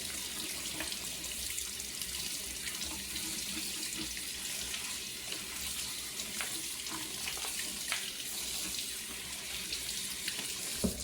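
Oysters gently rinsed under a running kitchen faucet, a steady close hiss of flowing water splashing into a sink with faint clinks and shifts, continuous and even throughout.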